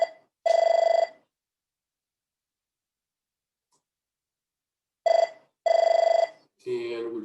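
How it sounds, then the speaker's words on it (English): A telephone rings in loud, clean electronic bursts: one ring, a long silence, then two more rings close together, followed by a brief muffled voice at the end. "And we're just going to ignore the phone."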